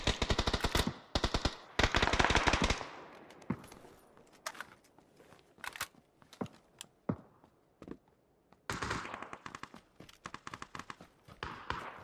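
Automatic gunfire in the battle-royale game PUBG, rapid loud bursts at the start and again near the end, with scattered single shots and footsteps in between.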